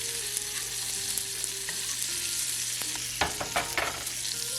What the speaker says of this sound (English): I like to baste a bit. You know? You want to put that butter inside that meat.